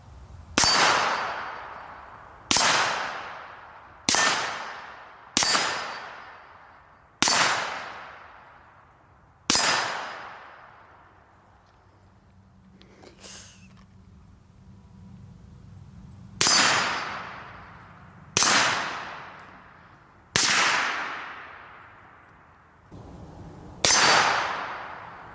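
Suppressed rifle shots, from a 300 Blackout or similar setup, each striking a steel target with a sharp ringing clang. Nine impacts fall in uneven groups with a quiet pause in the middle, every clang decaying quickly.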